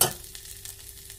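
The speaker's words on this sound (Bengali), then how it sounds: "শুকনো লঙ্কা, তেজপাতা আর মেথি ফোড়নে দিয়েছি" Dried chillies, bay leaf and fenugreek seeds crackle in hot oil for a tempering, a short sharp burst of sizzling that settles into a steady hiss with light pops.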